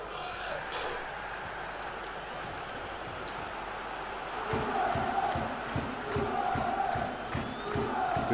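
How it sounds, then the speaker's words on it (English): Stadium crowd in the PES 2014 football video game, a steady broad roar that swells louder partway through into rhythmic chanting and cheering, with a commentator talking over it. "Getting the crowd rallied up, though."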